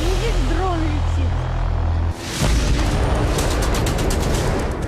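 A Houthi drone explodes at night in Tel Aviv, a sudden loud blast that cuts in after voices and leaves a sustained, roaring rumble.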